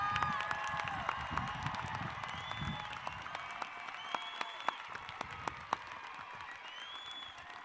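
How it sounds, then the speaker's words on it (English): Crowd applause for graduates at a high school graduation ceremony, a steady far-off wash of clapping with a few sharper nearby claps standing out and faint crowd noise beneath. "Let's give our graduates one more round of applause,"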